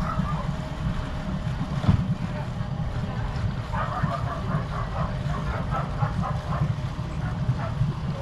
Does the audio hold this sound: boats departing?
yes